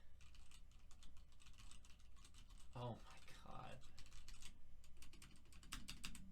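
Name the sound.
typing on a custom mechanical computer keyboard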